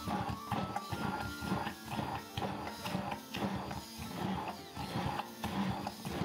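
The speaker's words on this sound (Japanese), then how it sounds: "ブレンダーで豆腐の粒がなくなり、滑らかになるまで混ぜます" A blender whirring through tofu until smooth for a homemade ice cream, a steady rough motor drone with pulsing churning surges, close and fairly quiet, no voices.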